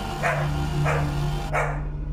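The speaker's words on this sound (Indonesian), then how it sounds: "Terus saja menggonggong." A dog barks three times in a slow, evenly spaced series over a steady low background hum, each bark short and moderately close.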